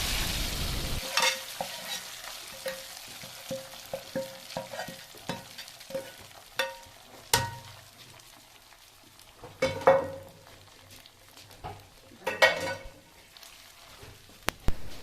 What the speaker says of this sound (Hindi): अब हम गरम घी, प्याज और लहसुन को चावलों के ऊपर डालकर तड़का लगा देंगे।